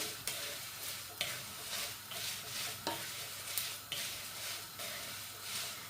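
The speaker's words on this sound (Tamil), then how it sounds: "நச்சீரத்தையும் சேர்த்து நல்லா வறுப்பேன்" Cumin and other spices dry-roast in a pan for a fish curry, a soft, steady sizzle broken by regular stirring scrapes at roughly one-second intervals.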